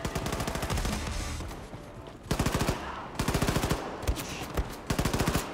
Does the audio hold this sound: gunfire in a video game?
yes